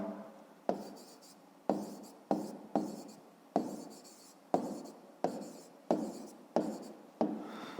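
A pen writes on paper while working out a fifth-grade maths exercise, in a series of short, close scratching strokes with brief pauses between them, quiet and without talk.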